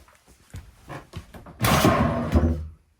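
A large drawer in a 2017 Gulf Stream B Touring Cruiser Class B+ motorhome is pulled open: a few soft knocks, then a loud sliding rumble with a thud before it stops, close by.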